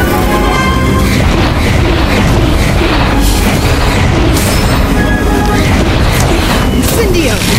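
In the Harry Potter: Magic Awakened video game, a Firecrack spell goes off as a dense, loud, rumbling blast with crackling bursts that fill the whole stretch, mixed with game voices and effects.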